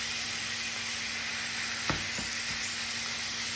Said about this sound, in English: I want the lamb to start cooking.